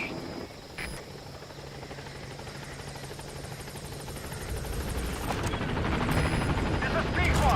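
Pequod helicopter from the video game Metal Gear Solid V: The Phantom Pain arriving at a landing zone, a steady rotor drone that grows louder as it approaches, with faint game effects over it.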